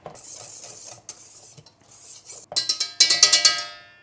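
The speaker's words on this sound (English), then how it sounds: "Then I need a whisk to stir the dry ingredients." A whisk stirring dry cake ingredients in a bowl: soft scratchy swishing at first, then a run of quick ringing metallic taps against the bowl's rim, close and clear.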